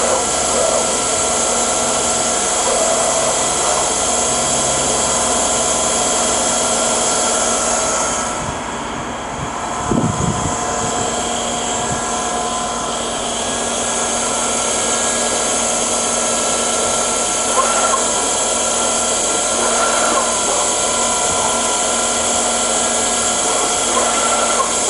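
The spindle of a used Luxcut KM-3BV CNC machining center with a Centroid M400 controller running at about 1500 RPM, a steady loud mechanical whine and hum held for the whole stretch, with a brief knock partway through.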